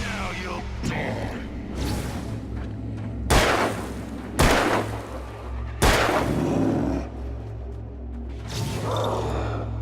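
Gunshots in the video game Alan Wake: three sharp, loud reports at uneven intervals over a steady low hum and murky background noise, with a softer burst near the end.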